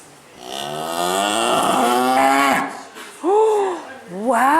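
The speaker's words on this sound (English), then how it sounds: "Oh, wow, that was a big moo." Miniature black cow on a farm giving loud, drawn-out moos close by, two long calls followed by shorter rising lows, with a brief voice between.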